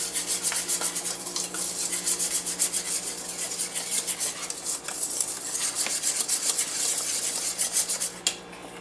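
Hand whisking of chocolate cake batter after two cups of sugar go in: rapid, steady scraping and rubbing strokes against a bowl, close and continuous, with a brief pause near the end.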